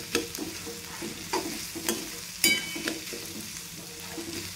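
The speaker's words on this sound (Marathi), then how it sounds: "छान परतून घ्यायचं" Onion and tomato masala sautéing in a pan, with a steady soft sizzle and intermittent scraping stirs of a spatula repeating every half second or so, close and moderately loud, no voices.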